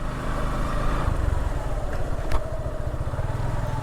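A motorcycle engine drones steadily at close range, with a low rumbling throb and road noise throughout, no voices.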